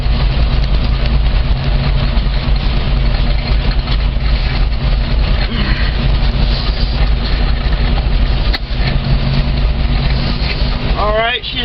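Small engine running steadily after a cold start with the choke taken off, a loud continuous low rumble and idle throughout, with a brief faint chirp near the end.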